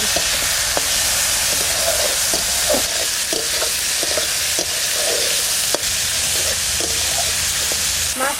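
Prawns frying in hot mustard oil with mustard seeds and garlic, ahead of taro leaves going into the pan; a steady loud sizzle runs throughout, with the scrape of stirring and brief pops, and nobody speaks.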